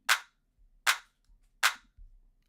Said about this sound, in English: Then we've got a clap,